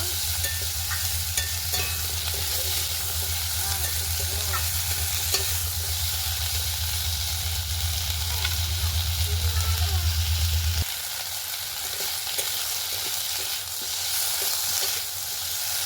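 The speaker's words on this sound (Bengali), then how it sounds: "ওলকপি দিলাম, দেব আদা রসুন বাটা, ভালো করে ভেজে নেব।" Kohlrabi frying with ginger garlic paste in a pan, a steady close sizzle with stirring scrapes and a low hum that cuts out partway through, then a quieter sizzle continues.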